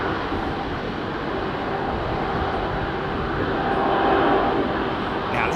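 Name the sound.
jet airliner engines at Heathrow departure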